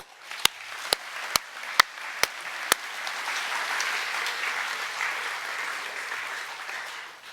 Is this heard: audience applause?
yes